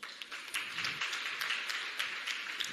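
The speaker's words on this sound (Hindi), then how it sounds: "जोरदार तालियां।" Audience applause at a meditation gathering, faint and distant, with a steady patter of many hands and a few sharper individual claps.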